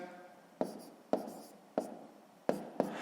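A pen writes numbers on paper during a school multiplication exercise, giving about five sharp scratchy strokes at a slow, fairly even pace, close and alone.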